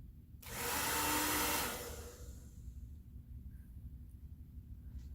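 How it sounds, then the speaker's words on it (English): A hair dryer roars on with a loud, steady whoosh for over a second, then winds down, leaving a low background hum. "we're going to try this with our blow dryer"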